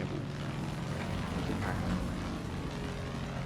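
A propeller airplane engine in the video game Far Cry 5 drones steadily and loudly throughout, a continuous rumbling hum with no pauses.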